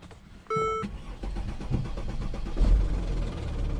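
A 2013 Mercedes ML350 BlueTec diesel engine cranks and starts with a short mechanical whir, then settles into a steady low idle rumble heard close up, with no talk.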